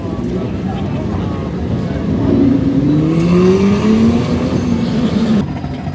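A drag racing car at the track revs hard, its engine note sweeping up and climbing toward the limiter in a loud, close whine, while people talk nearby.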